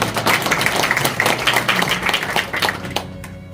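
Board members applauding at a clan association board meeting, a burst of hand clapping in a meeting room that stays steady and then thins out abruptly near the end.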